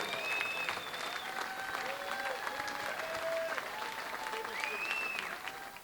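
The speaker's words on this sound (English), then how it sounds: "clap your hands" Audience applause at a cancer fund memorial awards gala, steady and moderately distant, with sustained tonal sounds and voices running through the clapping.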